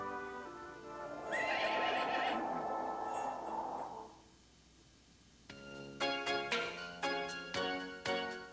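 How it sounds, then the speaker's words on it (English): A horse gives a loud, drawn-out whinny, followed by a quiet pause and then a series of short snorts or clip-clop sounds. "Horse."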